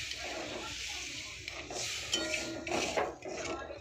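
Crab curry with spiced water being stirred in a cooking pot, soft scraping and clinking of a utensil against metal over a low bubbling simmer, quiet and close.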